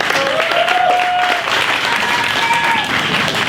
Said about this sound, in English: Make some noise for Bruce